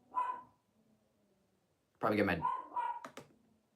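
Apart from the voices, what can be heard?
dog barking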